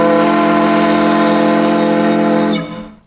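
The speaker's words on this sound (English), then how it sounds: "The whistle used to signal shift changes at the mine." The Bunker Hill mine's steam whistle, once used to signal shift changes, sounds one loud, sustained harmonic blast that holds steady for about two and a half seconds before cutting off, with no voices over it.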